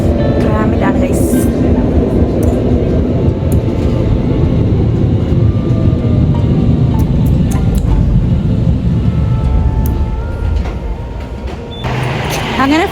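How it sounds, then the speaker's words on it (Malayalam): A tram runs along its rails, heard from inside the car as a loud, continuous rumble and rattle that eases slightly near the end. "ട്രാമിലാണ് ഗൈസ്."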